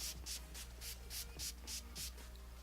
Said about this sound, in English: I love to go in with another spritz of my setting spray